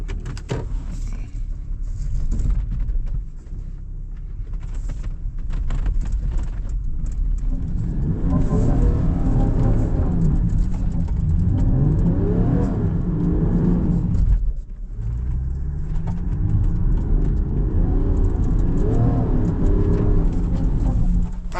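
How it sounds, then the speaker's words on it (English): A 2025 Land Rover Defender 110 D350 climbs a slippery clay slope with all four wheels spinning, its engine a loud, sustained low rumble that surges and revs in waves, with a brief dip partway through. "We've just got all four wheels spinning."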